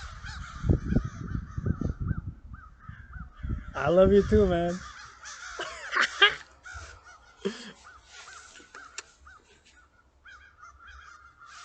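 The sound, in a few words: crows cawing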